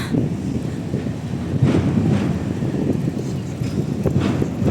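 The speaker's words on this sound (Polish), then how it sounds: "Wiatr się zmaga" Strong wind buffets the microphone in a continuous rough roar with gusty surges between city streets, and no voices are heard.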